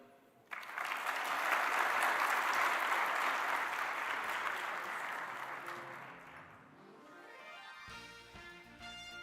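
Audience applause at the 2024 INFORMS Analytics Conference Edelman gala ceremony, a sustained wash of many hands clapping that swells quickly, holds steady for several seconds, then thins as music comes in near the end.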